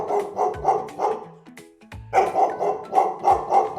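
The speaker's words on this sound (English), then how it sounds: "Yes, this is a dog." A farm dog barking in quick repeated bursts, about a dozen loud close barks in two runs separated by a short pause.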